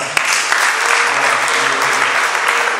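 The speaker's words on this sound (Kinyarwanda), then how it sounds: "amashyi ku Mana" Dense, sustained applause from an audience at a church wedding ceremony, with many hands clapping continuously and evenly throughout.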